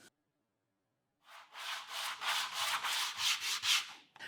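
Glued wood veneer pattern wrapped in cotton being sanded, a steady rhythmic rubbing that starts after a second of silence and continues in close, loud strokes without speech.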